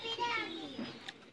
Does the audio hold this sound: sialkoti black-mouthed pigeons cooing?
yes